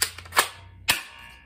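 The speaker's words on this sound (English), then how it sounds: "Pump shotgun right here." A pump-action BB shotgun is handled, producing a few sharp mechanical clacks, with two distinct snaps about half a second apart in an otherwise quiet room.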